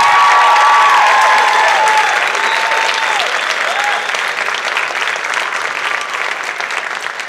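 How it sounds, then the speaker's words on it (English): Loud, dense applause from a school audience at a winter choral concert, sustained throughout and easing slightly toward the end, with a few whistles and cheers rising above the clapping. "Can you just give them another round of applause?"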